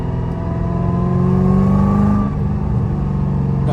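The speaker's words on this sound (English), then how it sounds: "What you hear right now is just the transmission." Steady drivetrain hum and whine from a manual-swapped Infiniti Q45 while driving, heard from inside the car as a continuous engine drone that rises slightly in pitch and then eases off.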